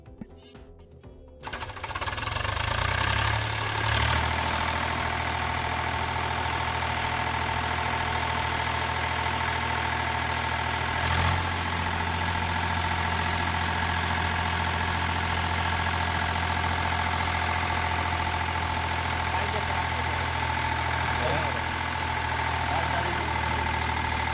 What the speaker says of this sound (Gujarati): જેવા તે વાડામાં ટ્રેક્ટર આવી ગયું છે